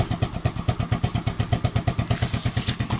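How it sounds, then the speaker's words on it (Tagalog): A motorcycle engine with its ignition switch bypassed runs at a steady idle, its loud, evenly pulsing exhaust beat sounding close and continuous throughout. "kahit patayin ko yung ignition switch, yan, ang motorcycle ko umaandar pa rin"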